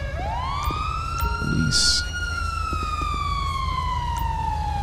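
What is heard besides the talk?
police car sirens in GTA 5 LSPDFR video game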